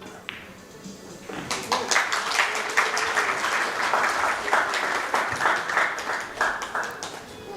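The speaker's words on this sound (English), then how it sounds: "you can see the applause getting a little louder in anticipation of another set tied" An audience at the 2024 WPA Women's World 9-Ball Championship applauds, beginning faintly and swelling into dense, sustained clapping that holds steady for several seconds.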